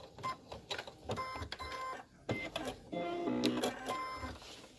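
A sewing machine stitching through thick fabric layers, running in rapid mechanical bursts with pauses between, close and moderately loud, with a denser whirring run near the end.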